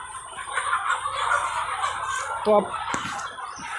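Chickens cluck and squawk nearby amid farmyard noise, while someone speaks briefly over them.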